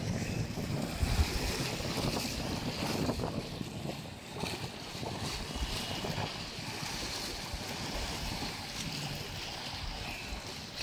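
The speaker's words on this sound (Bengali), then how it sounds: "নদীর ডাক, প্রচণ্ড বাতাস আর বিস্তীর্ণ আকাশ" At Betua ghat in Char Fasson, strong wind roars across the microphone along with the rushing of the river, a continuous rough wash with no clear voices.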